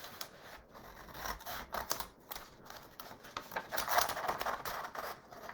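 Scissors snip along the edge of a recycled CD for a craft fish, giving a quiet, irregular run of crisp cutting clicks and crunches that grows a little louder near the end.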